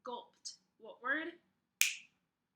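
A single crisp finger snap rings out near the end, coming right after a few short spoken words from one voice.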